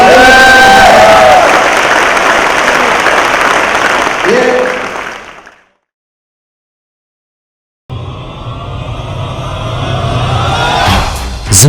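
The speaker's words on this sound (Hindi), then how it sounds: "इसके लिए एक बार जोरदार ताली बजाओ यार" A large audience claps loudly and steadily in a packed hall, then the noise breaks off into a couple of seconds of silence before more crowd noise and clapping return, with voices mixed in.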